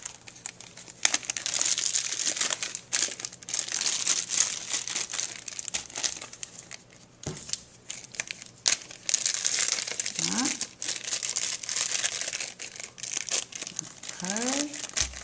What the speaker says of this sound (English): The easiest way to do this is to take your bags. You have to do each one and fold them down.